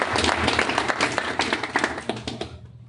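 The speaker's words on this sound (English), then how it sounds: "could you guys give them a round of applause" An audience at an online marketing meetup claps in a short burst of applause, dense and fairly close, with scattered individual claps standing out before it fades out abruptly near the end.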